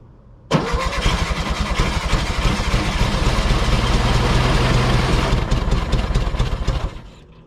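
A 1970 VW Beetle engine, abandoned for 20 years and running on a little added fuel, cranks and catches abruptly, then holds a loud, steady, slightly uneven idle for several seconds before cutting out near the end.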